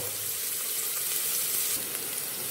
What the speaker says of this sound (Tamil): இப்போ குக்கரில் வந்து கொஞ்சம் எண்ணெய் ஊற்றி கொஞ்சம் வெங்காயம், கொஞ்சம் கருவேப்பிலை போட்டு தாளிக்க போகிறோம்